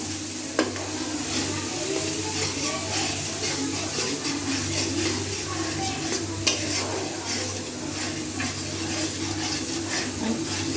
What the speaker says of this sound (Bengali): এখন আমি এটাকে সুন্দর মতন কষাবো